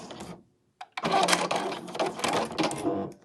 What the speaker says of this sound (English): and then I want to do a back stitch